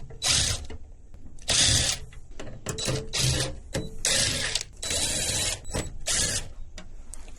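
Six Phillips screws are backed out with a screwdriver during a battery and pump installation. Loud, close bursts of rasping ratchet noise about a second long repeat one after another with short pauses between them.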